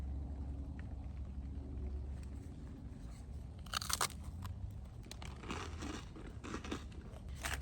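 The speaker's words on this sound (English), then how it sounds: "I'm excited to try it out. Freeze-dried ice cream sandwich." Crunchy bites and chewing of a freeze-dried ice cream sandwich at a riverside campsite, a few crisp crunches clustered midway over low steady background rumble, close and fairly quiet.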